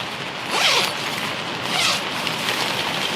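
Two drawn-out zipper pulls open a Coleman Castle Pines 4L tent, each a close, rasping zip, over steady outdoor background noise.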